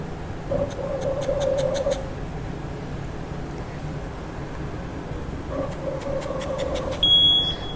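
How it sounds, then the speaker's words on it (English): A ventilator high airway pressure alarm triggered by blocking the patient circuit with a gloved hand, giving two bursts of rapid repeated electronic beeping separated by a pause, followed by a short higher-pitched tone near the end. "High airway pressure alarm should come up."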